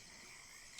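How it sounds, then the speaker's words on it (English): A recording of crickets chirping, a steady high-pitched continuous trill at low to moderate volume, with no voices. "I'll just have the crickets cranked up to like this volume"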